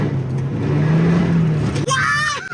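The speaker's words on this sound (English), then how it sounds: "First power slide of 2023, let's go!" A 1998 BMW Z3 roadster power slides through a corner with its traction control off, the engine droning close and loud before a sharp, high tire squeal cuts in near the end.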